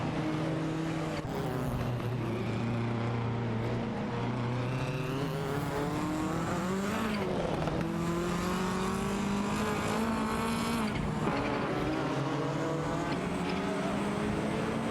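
Ferrari 288 DTO and Ford Sierra RS 500 battling closely in a racing video game, engines droning loudly and continuously with rising and falling pitch through gear changes, no talk.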